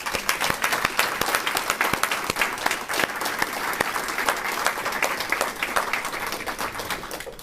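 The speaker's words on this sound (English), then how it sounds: "we extend another grand round of applause to each of you." Sustained audience applause at a Secretary of Defense Disability Awards ceremony honoring award recipients, a dense steady wash of many hands clapping that continues at even loudness without talk.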